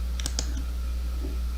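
A couple of quick computer mouse clicks, close and crisp, over a steady low hum with no talking.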